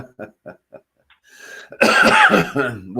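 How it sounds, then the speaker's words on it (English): Several short quiet coughs in a quick series, then a harsher, louder cough with a raspy throat sound near the mic, from a cough that has worsened over months. "your cough has gotten worse"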